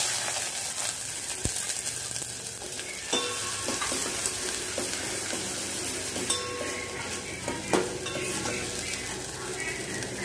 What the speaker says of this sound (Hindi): तो सबसे पहले मैं ये प्याज फ्राई कर लूँगी इसमें।